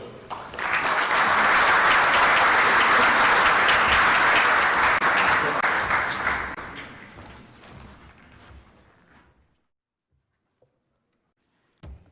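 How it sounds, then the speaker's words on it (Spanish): Audience at an international security and defense symposium bursts into loud applause welcoming a naval frigate captain, holding steady for several seconds before fading out into near silence, with a faint clack near the end. "Pido un aplauso para recibir al señor capitán de fragata Lars Jost"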